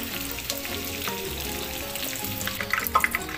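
Tofu fries in a pan for adobong sitaw. A loud, continuous crackling sizzle is broken by a few sharper pops near the end, with no voices.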